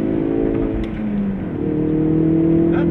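A 2017 Ford Focus RS engine revs steadily on a wet, rain-soaked race track, the pitch dipping briefly mid-way and then climbing again into a sustained drone close to the microphone.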